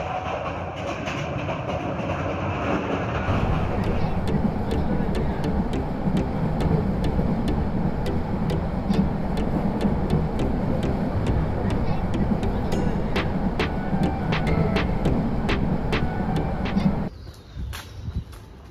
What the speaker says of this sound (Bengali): কক্সবাজার অভিমুখী আন্তনগর পর্যটক এক্সপ্রেস